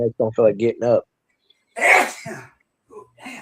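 Someone speaks a short sentence, then after a pause a single loud, sharp sneeze bursts out nearby, followed by a few faint breathy sounds.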